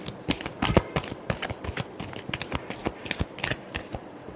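A deck of tarot cards is shuffled by hand in quick, crisp riffles and flutters, close and clear, with an irregular rhythm of soft slaps and no talking.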